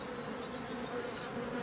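Honeybees buzz steadily inside a hive around worker cells where new workers are emerging, a dense, continuous drone that stays close and even throughout with no voices.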